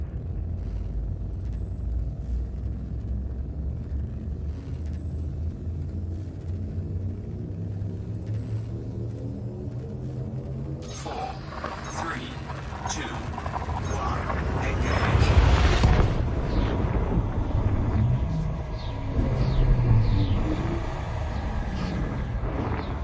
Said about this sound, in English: Shift drive charging.